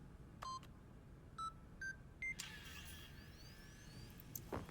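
Four short keypad beeps from code entry in The Stanley Parable, at uneven intervals, each a little higher, followed by a soft sliding whoosh and a faint click, all quiet.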